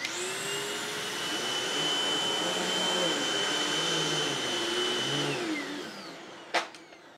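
A Hoover upright vacuum runs on carpet with a loud, steady motor drone, its pitch wavering as it is pushed back and forth, then winds down with a click.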